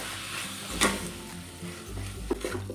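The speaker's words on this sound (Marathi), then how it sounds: "तर आता आपण हे सर्व मिक्स करून घ्यायचं आहे" A spoon mixes paneer stuffing with chopped coriander in a pan for stuffed paratha, making soft scraping and stirring scuffs with a faint sizzle, over a low steady hum, with one sharper clack early on.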